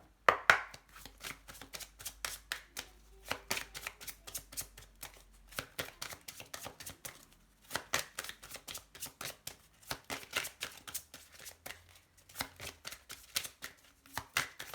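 A deck of oracle cards being shuffled in repeated quick riffling bursts separated by short pauses, close and clear, with no talking.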